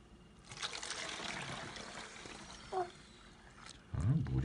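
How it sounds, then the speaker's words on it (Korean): Water poured through a funnel into a Samdasoo plastic bottle makes a steady trickling gurgle for a few seconds, close and fairly loud, with a voice speaking at the end. "아까 부었던 물들을 다시 삼다수 병으로 옮길 거예요"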